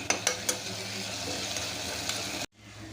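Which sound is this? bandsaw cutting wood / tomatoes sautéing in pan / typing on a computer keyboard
tomatoes sautéing in pan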